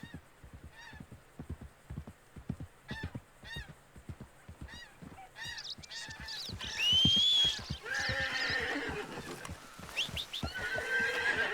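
A horse whinnies loudly several times, with repeated clip-clop hoofbeats in a steady rhythm and a rising whistle-like tone later on, in the video game Red Dead Redemption 2.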